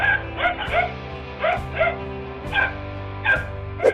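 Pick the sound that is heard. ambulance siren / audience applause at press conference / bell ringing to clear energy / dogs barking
dogs barking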